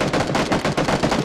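Rapid automatic gunfire in the video game PUBG, a dense rhythmic burst of shots fired wildly nearby, loud and continuous with no talk over it.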